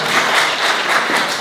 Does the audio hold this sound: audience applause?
yes